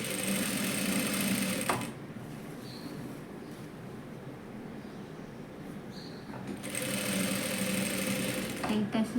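Sewing machine stitching elastic into palazzo pants, two bursts of fast, rhythmic needle clatter close by, separated by a quieter pause in the middle.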